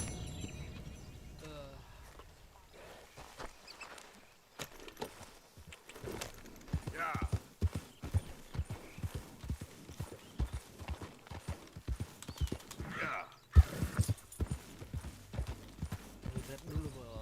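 Horse hooves clip-clop steadily on the ground while riding in the video game Red Dead Redemption 2, a quick, even rhythm of sharp close thuds, with a voice speaking over parts of it.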